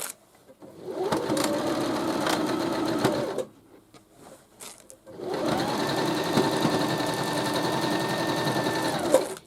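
A sewing machine stitches a cushion cover on a large stitch length, humming in two steady runs separated by a short pause with a few small clicks.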